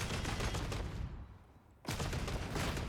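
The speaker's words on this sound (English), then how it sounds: "as you can see, 5 shots, the shield is staggered open" Bolt gun fire from Warhammer 40K: Darktide striking a bulwark's shield, loud dense bursts of blasts filling the first second, a brief near-silent gap, then a second heavy barrage.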